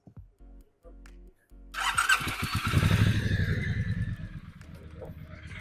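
A Brixton Cromwell 1200 motorcycle engine cranks briefly with a few clicks, then fires up and settles into a loud, steady, rumbling idle close by.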